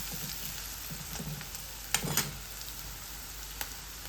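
Chopped tomato frying with soft onion and a pinch of turmeric in a pan, a steady quiet sizzle with a few soft stirring scrapes and a couple of brief sharper clinks, no talking.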